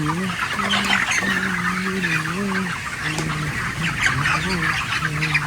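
Chickens on a poultry farm squawk and cluck continuously at close range, a dense flock chorus with a person talking over it at times.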